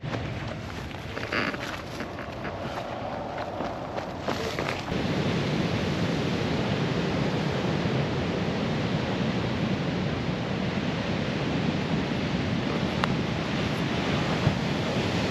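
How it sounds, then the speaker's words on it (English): Massive ocean waves crash and roll onto the rugged redwood coast of California, a loud, continuous roaring surf with wind buffeting the microphone, swelling stronger after the first few seconds. "Yeah, those are massive waves."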